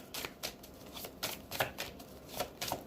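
Tarot cards being shuffled by hand, a quick run of soft papery riffles and flicks repeating in short bursts, close and fairly quiet, with no voices.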